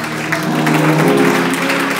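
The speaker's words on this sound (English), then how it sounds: "clap your hands" A church congregation claps their hands together during a worship service, a steady, dense patter of clapping that carries on for the full two seconds over sustained musical tones.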